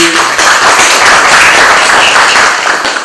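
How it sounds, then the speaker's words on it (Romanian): Sustained applause from an audience honouring prize winners at an awards ceremony for a town drawing contest, dense and steady throughout at close range with no talk over it. "Încă o dată felicitări, aplauze pentru ei"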